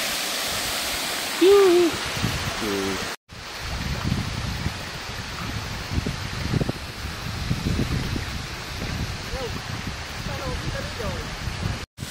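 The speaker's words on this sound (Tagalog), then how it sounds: "Yung waterfalls niya." Waterfall at a river spot with tubing and rafting, a steady broadband rush of falling water in the background, with people talking and voices over it and a brief cut partway through.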